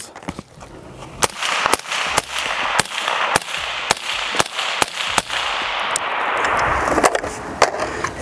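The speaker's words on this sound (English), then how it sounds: "Let's just see how this feels." An AR-15 rifle, tuned with an adjustable gas block set wide open, fires a rapid series of about a dozen sharp, loud cracks at a steady pace outdoors, with ringing noise between shots.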